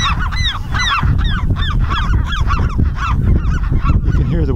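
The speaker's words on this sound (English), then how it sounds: "You can hear the western gulls in the background." Many western gulls calling at once on Todos Santos Island, Baja California, a dense, continuous chorus of overlapping squawks and cries nearby.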